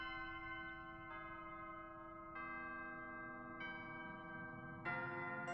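A bell console in a video game rings out sustained, resonant bell tones, each new strike layering over the previous ones as the chimes build to a fuller ring by the end, with no talking.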